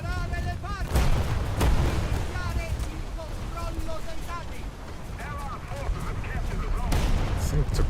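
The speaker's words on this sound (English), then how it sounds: "I think torpedoes just blew up there on the Patsahara, the rear ones." Torpedoes exploding on a ship in a naval battle video game, heavy booms and gunfire bursts rumbling over continuous noisy combat, with a voice talking over the battle.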